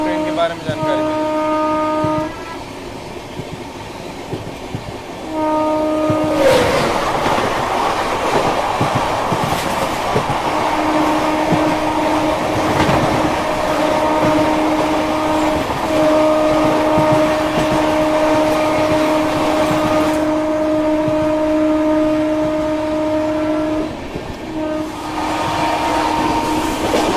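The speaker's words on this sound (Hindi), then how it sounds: "कालका नेताजी एक्सप्रेस से अपनी क्रॉसिंग होने वाली है अभी" The Kalka Netaji Express passes at a railway crossing, a loud, continuous rumble and clatter of wagons going by close at hand, with steady tonal hums running through it and voices heard at times.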